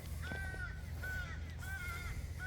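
Harsh crow caws come in a few quick bursts over a constant low background hum, fairly clear and at moderate distance.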